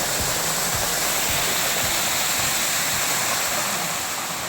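Suruli Waterfalls, a jungle waterfall, roars with water crashing down in a steady, loud, dense rush that fills the whole clip, close by and with no voices.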